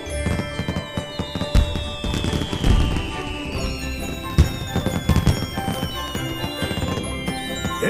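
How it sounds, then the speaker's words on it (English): Fireworks launch with whistling rises and scattered pops and bangs over layered festive background sound, moderately loud and continuous. "Look, they launched some fireworks just for you."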